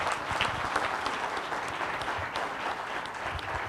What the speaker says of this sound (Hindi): एक बार ये तालियां बनती है कि नहीं बनती